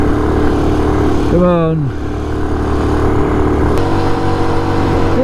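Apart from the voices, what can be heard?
Honda C90 motorcycle engine revving in second gear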